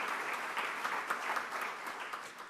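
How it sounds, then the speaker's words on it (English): A crowd applauding steadily, many hands clapping in a dense wash that fades a little toward the end. "let's give them a big round of applause"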